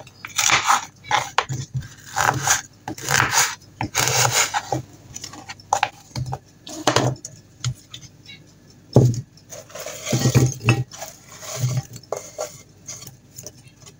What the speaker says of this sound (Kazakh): Болгар бұршымызды турап аламыз.